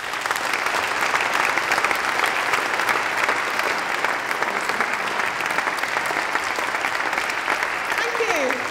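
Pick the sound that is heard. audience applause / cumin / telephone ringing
audience applause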